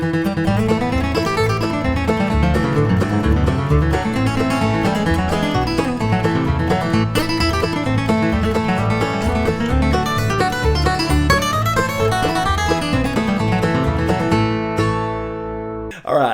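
Advanced-level bluegrass guitar solo of Nine Pound Hammer, played up to tempo as a dense, steady run of picked notes over a full, continuous accompaniment, loud and close with no talking, fading out near the end.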